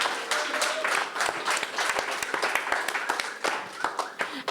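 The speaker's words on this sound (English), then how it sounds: "Can I have some applause for that?" Applause from the audience at a cultural conference, with dense, uneven clapping close by, sharp individual claps standing out over a crowd of hands, and some voices mixed in.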